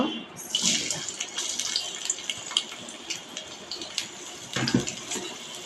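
Water gushes from a tap or vessel into a cooking pot holding fried onion, cardamom, cinnamon and cloves for spiced chickpea bhuna. A strong splashing pour starts abruptly, then settles into a steady close stream with small splashes.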